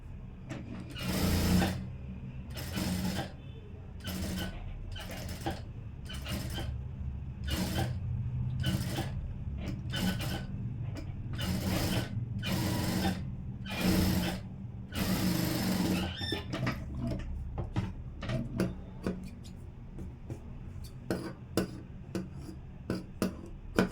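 A sewing machine stitches a blouse in bursts, about a dozen short runs of rapid mechanical clatter separated by brief pauses, then softer handling noises toward the end.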